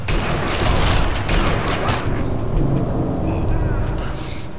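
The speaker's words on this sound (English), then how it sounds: "How did that bullet not make him waver like that when I shot him dead center mass?" Gunfire in the shooter Sniper Elite V2, loud booming shots and rumble filling the first half, then fading into lower battlefield noise.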